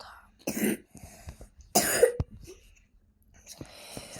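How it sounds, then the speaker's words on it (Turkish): Two sharp coughs burst out close by in the game Rope Hero: Vice Town, separated by a short pause, followed by quiet breathing and faint rustling. "O öksürüyor."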